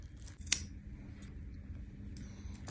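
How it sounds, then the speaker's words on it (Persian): Scissors snip off excess knitting yarn from a knitted headband: one sharp, close click of the blades stands out in a quiet room, followed by a few faint ticks. "خب این اضافه نخ هم که قیچی میکنیم"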